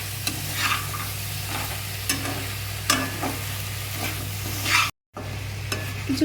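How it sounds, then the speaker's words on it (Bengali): Cucumber and mixed vegetables sautéing with spices in a pan: steady close sizzle with repeated scraping strokes of a spatula, one brief dropout near the end, no talking. "তিনটা মিনিট সিমে দিয়ে ভালো করে এই মশলার সাথে সব সবজিগুলোকে কষিয়ে নিতে হবে।"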